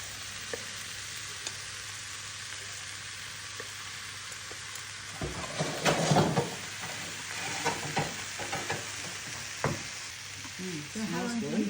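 Tomatoes and tofu frying in a pan, a steady hiss of sizzling that grows busier as more goes in, with crackles, stirring and faint talk over it.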